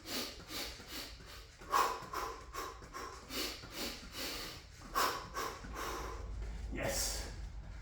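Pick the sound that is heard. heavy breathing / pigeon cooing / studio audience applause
heavy breathing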